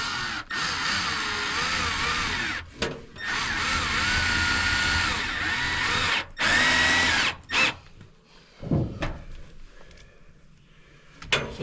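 Power drill driving into soffit and fascia on a lakehouse build, long loud whining runs with pitch shifts, separated by brief pauses, then shorter bursts and quieter handling noises toward the end.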